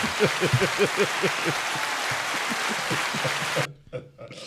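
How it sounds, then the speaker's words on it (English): Canned applause fired from a soundboard button during a birthday moment on a talk show, clapping and cheering running steadily for several seconds under voices laughing and chatting, then stopping abruptly. "Round of applause, ladies and gentlemen."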